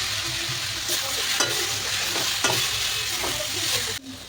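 Masala is stirred and fried in a pan with a splash of water for a dhaba-style paneer dish, giving a close, continuous sizzle broken by repeated scraping strokes of a spatula, which fade sharply at the end.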